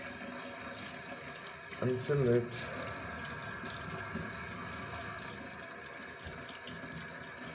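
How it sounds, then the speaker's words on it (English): Tap water at normal pressure pours through a Harley-Davidson Screaming Eagle air filter in a steady, soft hiss, with a brief louder gush partway through and someone talking over it. "I'm gonna go to a tap, and under normal pressure, you don't need high pressure or anything."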